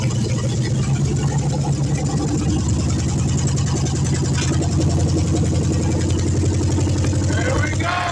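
A Chevrolet C10 truck with an LS engine swap runs at a steady, even idle, loud and close throughout with a constant rumbling throb.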